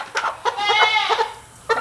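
A home-raised chicken squawks loudly and repeatedly in sharp, frantic bursts as it is grabbed at close range during backyard processing, with no talking.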